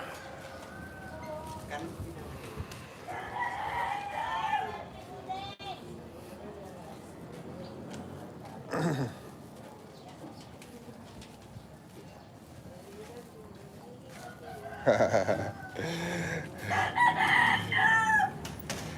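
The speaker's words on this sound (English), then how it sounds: "Lots of roosters out here." Roosters crow several times at a moderate distance in the Philippines, separate calls rising over background chatter and talk.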